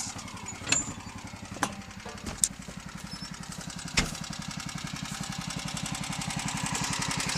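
Steady chugging idle of the engine on a bale wrapper wrapping balage, close and even with a rapid regular pulse, punctuated by a few sharp clicks and clanks.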